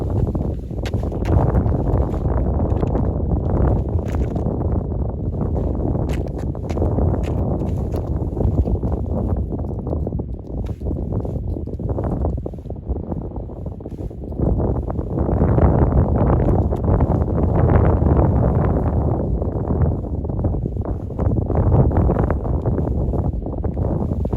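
Strong wind buffets the microphone continuously on a disc golf course, a loud roaring rumble that surges and eases, building again in the second half.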